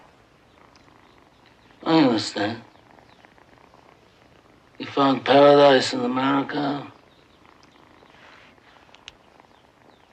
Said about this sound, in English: apparently the cat's purring was so loud that it screwed up the sound